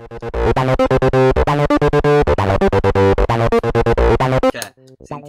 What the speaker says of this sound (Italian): sentite che con una distorsione che ha più medie, più enfasi sulle medie, il suono è diverso.